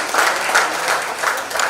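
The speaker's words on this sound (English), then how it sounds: "So please give them a big round of applause." Audience applause for Soha Ali Khan and Kunal Kemmu at a book launch in a bookstore, a short burst of steady clapping from a nearby crowd.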